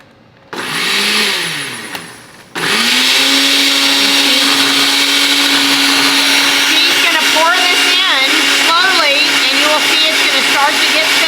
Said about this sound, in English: we've put 3 egg yolks, 2 tablespoons of lemon juice, and a pinch of cayenne pepper in the blender